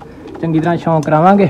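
Pigeons kept in pairs in a breeding loft give loud, close, throaty coos, several rolling calls in quick succession, while someone talks over them.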